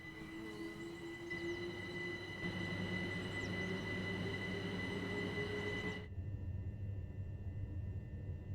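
A Class 395 high-speed electric train running in Train Sim World 6, a steady rumbling hum with tonal motor whine, fairly faint, the high end dropping away near the end.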